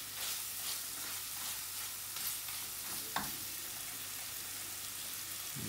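Masala sizzles and spits steadily in a pan for a Bangladeshi Keski fish curry. The close, even frying hiss runs throughout with faint stirring scrapes and no talk.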